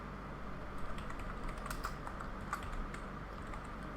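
Rapid keystrokes on a newly bought computer keyboard, light irregular clicking with brief pauses, close and fairly quiet, with no talking.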